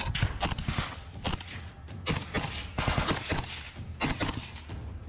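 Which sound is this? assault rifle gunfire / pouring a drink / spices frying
assault rifle gunfire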